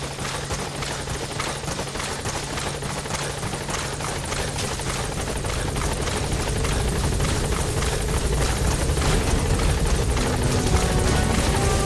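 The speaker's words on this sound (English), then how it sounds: "Support helicopter has arrived." A video game helicopter's rotor thumps steadily and loudly as it arrives, its dense engine roar filling the whole span without a break and growing slightly stronger toward the end.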